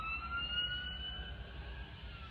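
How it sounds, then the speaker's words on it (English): A faint, steady ambulance siren wails from a distance, holding a sustained high tone over low traffic rumble. "There are some sirens."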